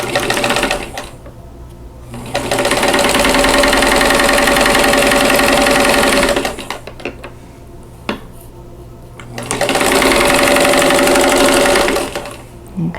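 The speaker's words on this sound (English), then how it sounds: "So we're going to go ahead and sew it directly on the line." A sewing machine stitches a quilt block straight along a marked line, running in two long, steady bursts of dense mechanical whirring separated by a quiet pause with small handling clicks.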